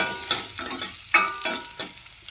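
Garlic cloves fry in hot oil with cumin seeds in a pan, a steady bright sizzle broken by several loud rhythmic bursts as the pan is stirred, close and without voices.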